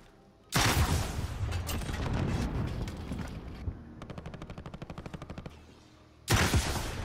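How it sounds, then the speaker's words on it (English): Gunfire in a video game: a loud burst of shots opens, a rapid run of evenly spaced automatic rounds follows, then another loud blast near the end. "I shot at a light post."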